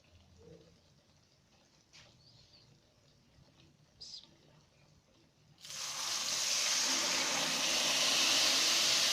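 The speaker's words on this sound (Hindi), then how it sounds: "अब आप इसमें पानी डाल दें," Water is poured into ghee-roasted semolina in a pan for saffron halwa. Faint clinks over quiet are followed by a sudden loud, continuous hissing sizzle.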